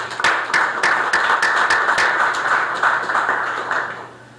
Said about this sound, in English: I'd like to give him a round of applause if we can